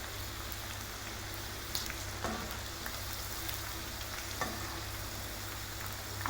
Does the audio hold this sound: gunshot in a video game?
no